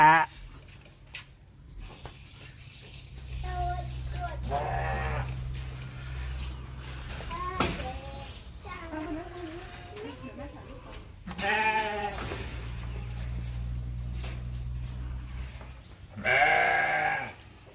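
Sheep at a zoo bleat in several separate calls spread across the stretch, each a wavering cry over a steady low hum.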